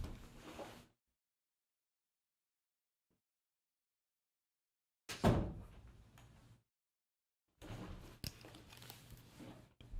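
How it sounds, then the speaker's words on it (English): A room door being closed, heard as a near, sharp thump with rattling and handling noise, set among short bursts of nearby rustling and knocks separated by silence. "I should just close my door."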